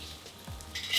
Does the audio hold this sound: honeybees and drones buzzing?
no